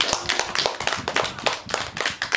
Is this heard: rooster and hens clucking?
no